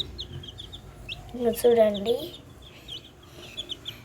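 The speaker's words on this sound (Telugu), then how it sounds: "ఈ కోడి పిల్లలు చూడండి" Newly bought chicks, about ten of them, peep with brief high chirps scattered through the clip, while a hen-like cluck rises in the middle and a voice speaks briefly.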